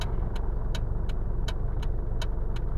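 Road traffic passing on a busy, partly flooded road near a shopping mall, a steady broad rumble of car engines with regular ticking clicks on top, constant and moderately loud with no talk.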